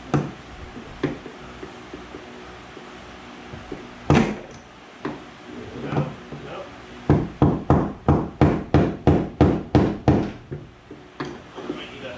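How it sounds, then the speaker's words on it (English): Metallic hammer blows ring out up close on a tub bearing inside a Whirlpool Cabrio washing machine, scattered at first, then a steady run of about a dozen evenly spaced strikes, with faint speech underneath. "I might need a bigger hammer"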